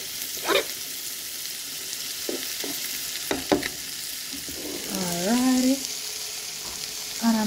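Conch sautéing in a hot pan, an ongoing sizzle broken by scattered clinks and scrapes of stirring, with a short voice-like sweep near the end.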